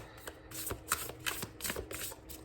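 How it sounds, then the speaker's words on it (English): A deck of cards printed on stiff card stock being shuffled by hand, close and crisp, in a quick run of riffling bursts that repeat several times with short pauses between them. "Let's give a few more shuffles."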